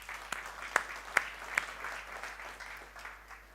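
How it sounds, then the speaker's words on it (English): Business-event audience clapping together in a room, a moderate burst of applause with a few sharper individual claps standing out before it tapers off, fairly distant and not very loud. "Give yourself a round of applause."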